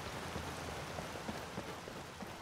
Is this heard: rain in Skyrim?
yes